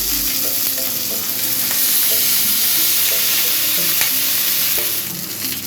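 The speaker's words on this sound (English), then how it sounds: "Time to add the salmon pieces, and we're going to sear these on the first side for about 3 to 4 minutes" Skinless salmon pieces sear in a hot frying pan, a steady loud sizzle running throughout with occasional stirring clicks and no voices.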